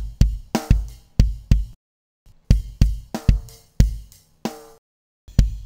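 Dry snare drum hits without compression or EQ, about a dozen sharp strikes in an uneven groove with short pauses, each with a quick ringing decay.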